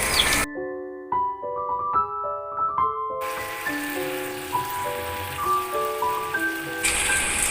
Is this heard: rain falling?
yes